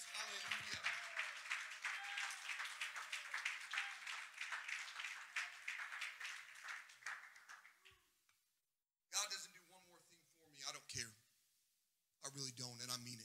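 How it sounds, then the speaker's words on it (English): A church congregation claps in praise to the Lord, dense rapid clapping sustained for several seconds before fading out, followed by a voice speaking in bursts. "let's give the Lord a hand clap of praise"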